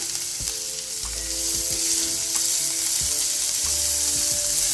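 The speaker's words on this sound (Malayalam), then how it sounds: "സവാളയൊക്കെ നന്നായിട്ട് വഴന്നാൽ മതി" Onion and ginger sauté in a hot pan for proso millet upma, a loud, steady, close sizzle with occasional stirring scrapes.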